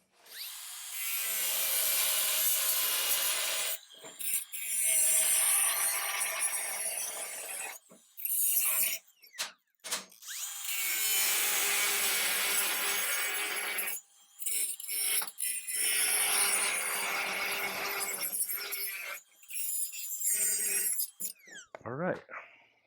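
Metal being notched for bolts with a power tool during custom cab mount fabrication, harsh grinding bursts in several long stretches broken by pauses, close and fairly loud.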